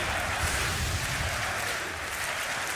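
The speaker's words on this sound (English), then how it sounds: "Crowd getting behind NIP again." A large esports arena crowd at a Counter-Strike match between Ninjas in Pyjamas and Virtus.pro at Dreamhack Masters Malmo 2016 cheers and claps, a steady, loud roar of massed voices and applause that holds throughout.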